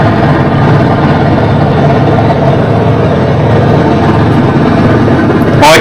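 Helicopter hovering and turning during a short test flight, a steady loud engine and rotor drone running throughout with no talk.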